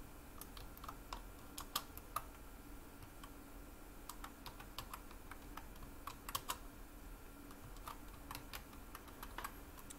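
Fast, light tapping on a computer keyboard while entering text for an After Effects animation, the clicks coming in quick irregular bursts, faint and close against a low steady background hum.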